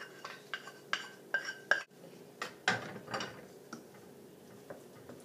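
Mashed potato mixed with refrito being stirred in a bowl for llapingachos produces a string of soft clinks, knocks and scraping thuds of a utensil against the bowl, irregular and close, fading toward the end.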